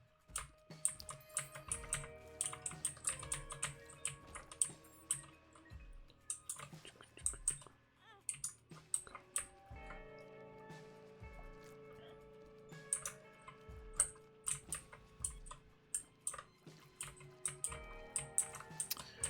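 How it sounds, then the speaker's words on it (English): Computer keyboard keys pressed while playing The Binding of Isaac, with irregular bursts of clacking taps, some rapid clusters and some single presses, close and fairly quiet over faint game tones, with no talk. "I've been playing most games on keyboard, and Isaac's definitely been one of them"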